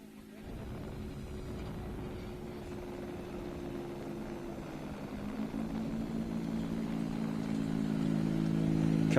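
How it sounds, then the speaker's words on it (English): Renault Clio rally car engine on a tarmac rally stage in the Canary Islands, a raspy sustained drone that builds steadily louder as the car approaches. "the Clios sound amazing when they're in stage mode as well. There's just a nice rasp to the engine."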